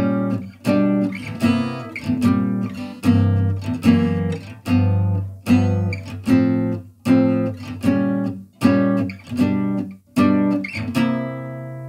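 Three-finger chords strummed on an acoustic guitar in a slow progression, each chord struck in even beats and left ringing, close and clear with no talking.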